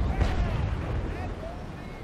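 Cannon fire from brigs in the naval battle game Naval Action Legends: a loud, rumbling blast near the start that rolls into sustained booming and crackling noise.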